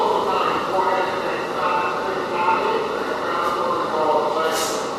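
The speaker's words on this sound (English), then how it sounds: "These are the subway cars that are leaving the 7 line." NYC subway 7 line train cars roll past with a continuous rumbling, rattling rail noise at close range, steady in level, with brief high squeals near the end.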